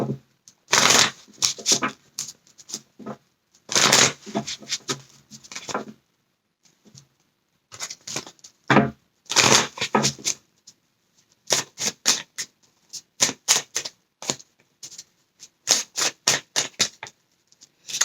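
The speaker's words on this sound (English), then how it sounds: "I'm trying to move these cards out the way." Tarot cards are shuffled and slid around in quick crisp bursts of riffling and slapping, separated by short pauses, close and loud with no voices.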